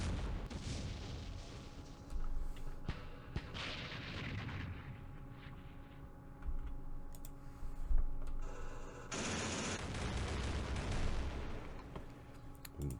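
Rumbling gunfire and artillery-like blasts in the Campaign Series Middle East war game as units attack a recoilless rifle position in a trench, with repeated heavy bursts, one loud surge near the end, no talk.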